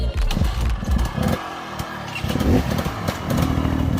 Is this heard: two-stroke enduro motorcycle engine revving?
yes